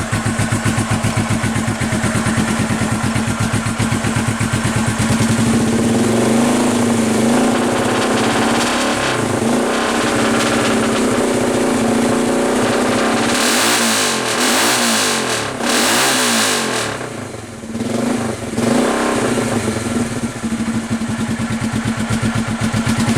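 Hard tail bobber motorcycle with rejetted carburetors and K&N filters started and revved, its mid-pitched engine running loud and close throughout, with repeated throttle blips rising and falling over a steady idle.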